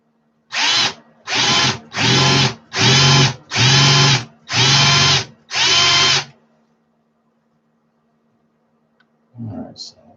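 A power drill bores holes during a 350-amp Evolution series stage 1 build, sounding as seven loud, close whirring bursts in quick succession, then near silence with a brief faint noise at the end.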